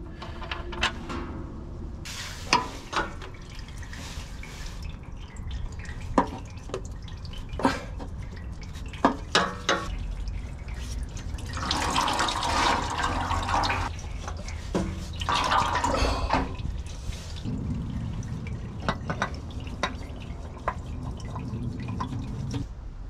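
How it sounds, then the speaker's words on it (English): Engine oil drains from a 1987 Chevrolet Suburban into a catch pan as an irregular run of close drips and splashes, with a thicker pouring wash midway and a few scattered knocks around it. "While we wait, we'll spill the oil."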